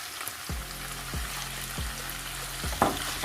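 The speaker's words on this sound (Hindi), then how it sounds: "चिकन को मैं अच्छे से फ्राई कर लूँगी" Chicken fries in a pan for Chinese-style rice, giving a soft, steady sizzle broken by four evenly spaced low thumps or taps of the spatula, close and without talk.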